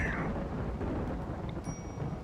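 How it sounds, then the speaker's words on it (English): A thunderstorm in the video game RimWorld: steady rain hiss with low rolling thunder rumbling underneath, continuous and fairly quiet, with no voices. "I should have known better than to take thunderstorm, lightning storm"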